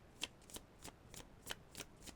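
A deck of cards is shuffled by hand in a quiet room, a series of about seven crisp riffling bursts in an even rhythm, close but soft, with no speech over them.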